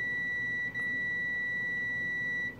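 A continuous high multimeter continuity beep sounds steadily throughout while testing Christmas light strand wiring, clear and close, with a brief dip partway through.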